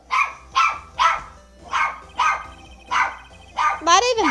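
A pet dog barks loudly and steadily, about eight sharp barks at an even pace, close to the microphone, ending in a higher whining yelp.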